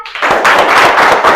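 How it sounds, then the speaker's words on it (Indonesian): Classroom students clap for a group that has just presented, a short loud patter of hands starting after a brief pause and continuing steadily to the end. "Berikan tepuk tangan."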